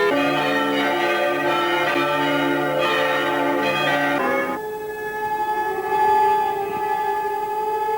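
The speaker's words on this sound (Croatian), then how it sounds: "U cijeloj Hrvatskoj oglasile su se i sirene, na trenutak prekinule tišinu koja je vladala hrvatskim gradovima." Civil defence sirens sound across Croatia for President Franjo Tuđman's funeral. Church bells ring loudly at first, then stop about halfway, leaving a steady, sustained siren wail alone.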